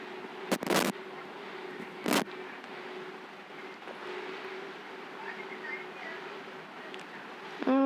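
Gunfire in a Spider-Man video game comes as two loud, sharp bursts early on, followed by a steady low background hum and faint game sounds.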